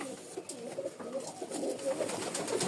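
Pigeons in pairs at a Rajshahi seller's stall coo in soft, repeated throaty phrases, close by and rising slightly in loudness toward the end, with no talk over them.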